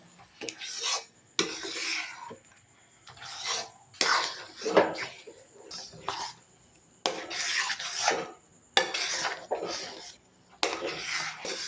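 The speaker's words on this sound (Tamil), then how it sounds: "போட்டுட்டு ஒரு கிண்டகம் கிண்டி கொடுப்போம்" Banana leaf halwa with cardamom, cashews and almonds stirred in a pan, heard as repeated rasping scrapes in uneven bursts separated by short quiet gaps, close and fairly loud.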